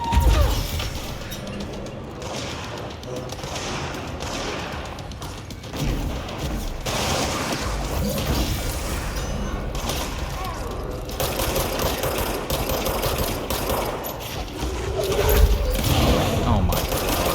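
Sustained weapon fire in the video game Control AWE during a drawn-out final battle, a dense steady clatter of shots with mechanical clanks running throughout, loud and unbroken.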